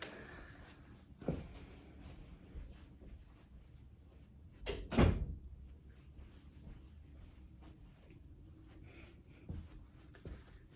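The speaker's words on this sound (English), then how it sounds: "I'm about to close the door" A door in a house is shut with one firm thud about midway, set in a quiet room with a few faint knocks and bumps before and after, and no talking.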